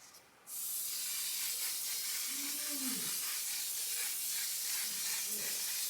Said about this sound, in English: I literally spray this everywhere and it makes my makeup last.